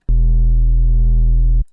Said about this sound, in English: this boost knob will distort the waveform kind of